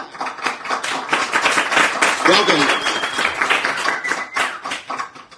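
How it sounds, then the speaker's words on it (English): Scattered hand claps from people gathered in a room during a live stream, rippling through continuous talking and background chatter with a brief tonal sound partway through. "The sound of people clapping in the room is now louder than the sound effect of people clapping"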